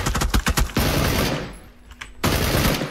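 Shotgun fire in the battle royale game PUBG: a loud, rapid volley of blasts that stops abruptly, leaving a brief quieter stretch of game ambience before the heavy firing noise returns.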